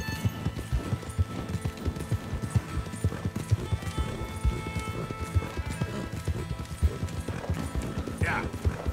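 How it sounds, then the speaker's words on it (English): A big, strong horse gallops in Red Dead Redemption 2, its hooves clip-clopping in a rapid, steady rhythm, close and prominent, with game voices faintly in the background. "This is a big strong horse, it's not one of the fastest."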